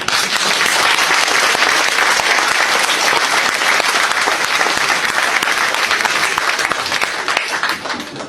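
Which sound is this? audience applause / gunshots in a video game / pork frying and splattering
audience applause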